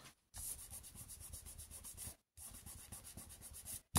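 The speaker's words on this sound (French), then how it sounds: "Et pour finir, je gomme." A pencil eraser rubs briskly across paper on a scrapbooking page, a dense run of quick scrubbing strokes, close and soft, pausing briefly before resuming.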